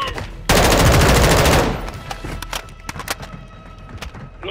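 Gunfire in Call of Duty MW2 during a raid: a loud, dense burst of automatic fire lasting over a second, followed by scattered single shots and thuds, with voices talking.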